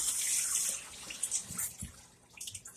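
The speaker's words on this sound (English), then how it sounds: "Let me wash my hands off right quick." Tap water runs while hands are washed at a kitchen sink during spaghetti and meatball cooking, a steady hiss that fades partway through, with a few splashes and small knocks near the end.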